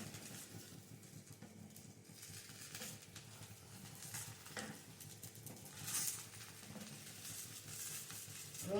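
A fasting-style dosa roasts in a pan on a gas stove, giving a steady soft sizzle and crackle with occasional faint stirring or utensil scrapes, close and continuous with no talking.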